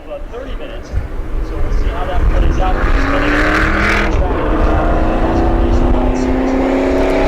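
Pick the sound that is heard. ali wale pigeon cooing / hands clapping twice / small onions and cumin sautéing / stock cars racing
stock cars racing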